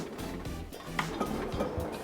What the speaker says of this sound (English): I'm just chopping the chicken up in small little bits